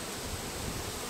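Guard bees at the entrance of a hive kept by a beekeeper buzz in a steady, dense hum that fills the whole short stretch, fairly soft and even with no voices.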